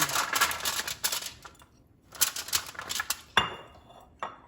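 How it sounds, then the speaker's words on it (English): A butternut squash set down on a foil-lined cookie sheet, giving clattering, crinkly clinks and rustles in a few bursts with quiet pauses between, close and moderately loud with no talking. "I just have a cookie sheet that's been lined with some foil, and we're gonna pop this right on"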